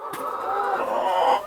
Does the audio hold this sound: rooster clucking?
yes